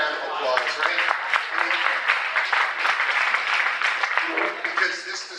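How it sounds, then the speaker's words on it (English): An audience at a diversity and inclusion talk hosted by RVAWorks and Capital One Cafe claps for volunteers, a steady, dense roomful of applause lasting several seconds, with voices mixed in. "Let's give them a round of applause, right?"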